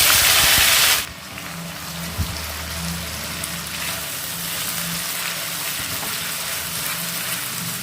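A ground spice paste drops into hot mustard oil while cooking prawn masala and sets off a loud burst of spattering. The sizzle then settles into a steady, crackling fry that carries on alone for several seconds.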